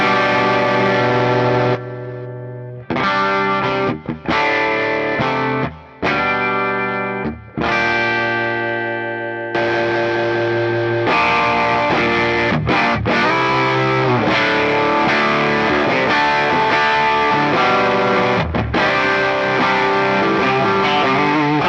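Electric guitar played through a heavy amp-in-a-box distortion pedal, sustained chords and riffs with brief pauses, loud and saturated throughout.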